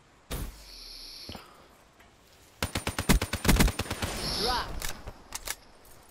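Call of Duty Black Ops III gameplay: rapid bursts of gunfire from a long range weapon crackle in quick rhythmic volleys, with a few isolated shots and mechanical clicks around them.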